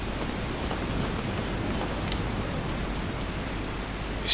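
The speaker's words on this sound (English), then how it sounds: "It's still raining." Steady, even rain pours in the tropical jungle beach setting of the video game Escape: Sierra Leone, a continuous hiss with faint patter and no voices.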